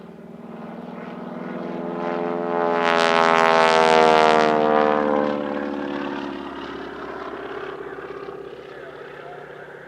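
Aerobatic propeller airplane at the California International Airshow, its engine droning with a rising, swelling roar as it passes close overhead, then fading slightly while still sustained.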